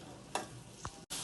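Ingredients for butter chicken frying on a low flame, a soft steady sizzle broken by two short stirring scrapes within a second.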